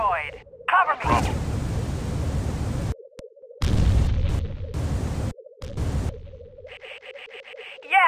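An enemy generator blows up in the PC game Tribes 1 during a clan match: harsh, loud blocks of roaring static-like blast noise cut by sudden dropouts, alongside a thin, radio-filtered voice.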